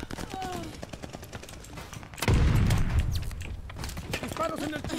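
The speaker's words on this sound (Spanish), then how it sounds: "Disparos en el punto caliente." Rapid automatic gunfire from an online match of the video game Call of Duty Vanguard, a loud burst erupting midway and rattling on with a player's voice talking over it.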